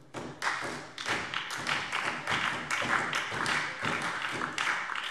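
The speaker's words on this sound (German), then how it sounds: "Applaus" Applause in a German parliament plenary session: scattered claps and desk thumps from the chamber, irregular and fairly close, running steadily for several seconds.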